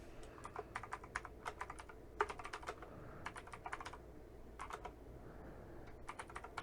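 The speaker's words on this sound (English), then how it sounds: "So if we type a simple sentence" Typing a sentence on a computer keyboard, with quick irregular bursts of crisp key clicks and brief pauses between words, close and fairly quiet.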